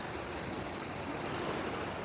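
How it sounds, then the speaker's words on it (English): A ship's bow wave pushes water at the Portsmouth docks entrance, a steady rushing wash of water mixed with wind noise, continuous and fairly faint with no voices. "get the big bow wave right at the front of the ship"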